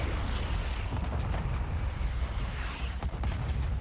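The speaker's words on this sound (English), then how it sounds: "Damn, that was a lot of missiles." A dense barrage of rocket salvo missile explosions in Call of Duty: Black Ops, a continuous rumbling wall of booms and bursts with a few sharper cracks near the end, loud and sustained throughout.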